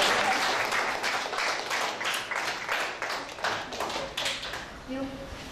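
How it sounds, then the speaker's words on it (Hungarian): An audience at a school event applauds a competition winner, sustained rhythmic clapping that fades slightly toward the end. "Azért egy tapsot megérte."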